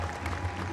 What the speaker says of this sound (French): Applaudi par John Voight.